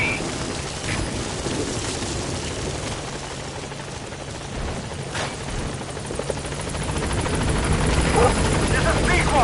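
A helicopter in the Metal Gear V video game arrives at a landing zone, its rotor thudding loud and continuous with a rushing wash that builds toward the end, while a voice speaks over it.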